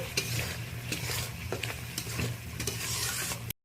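Spice paste stirred and frying in oil in a pan, a continuous close sizzle with repeated scraping strokes of a spoon, steady throughout before cutting off abruptly at the end.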